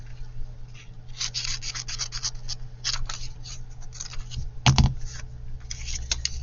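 Scissors trim a paper piece for a layered tuck pocket craft, giving a run of quick, close snips and rustles with no talking.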